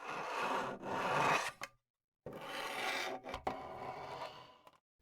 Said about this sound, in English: the rubbing sound of the cable on the metallic edge of the duct